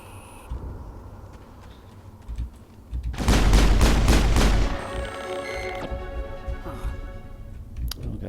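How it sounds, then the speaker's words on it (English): Sniper rifle fire in Mass Effect, a dense burst of loud, sharp shots packed together for about a second and a half, followed by ringing game effects and lower background sound. "Fuck yeah, sniper rifles."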